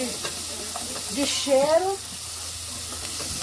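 Garlic and pepper seasoning for beans sizzles softly in a pan with a brief stir, while someone talks over the cooking.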